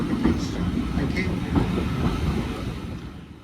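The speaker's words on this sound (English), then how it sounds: "as our train draws slowly into the station at Swanage" A Swanage Railway steam train drawing slowly into Swanage station, heard from on board as a steady low rumble of carriages with faint wheel clatter and occasional squeaks, gradually easing off toward the end.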